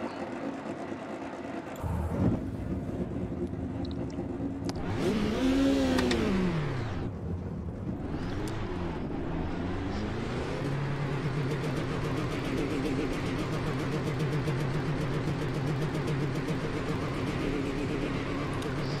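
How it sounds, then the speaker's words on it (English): A race car engine in the Automobilista 2 sim revs hard and climbs through the gears, swelling to a loud sweeping peak midway, then settling into a steady sustained drone, with no talk over it. "this is going to be lots and lots of power out of that engine"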